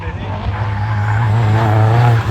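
An R53 Mini Cooper S with a 1.5 litre turbocharged engine races up a hillclimb course, its engine note loud and close, rising steadily with a droning tone and faint tyre noise.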